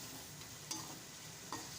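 Masala for chicken karahi being stirred in a pan, a faint continuous sizzle with two soft utensil scrapes.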